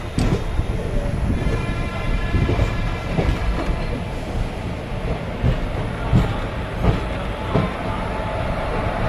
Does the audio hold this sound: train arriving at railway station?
yes